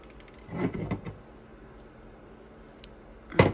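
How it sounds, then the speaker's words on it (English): Scissors snipping sewing thread during hand piecing, a couple of quiet close cuts and rustles, with a crisp final snip near the end. "you can go ahead and bury your thread and cut it"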